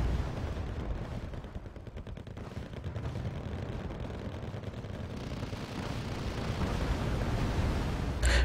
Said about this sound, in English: Now look at all those grenades falling on my T-72.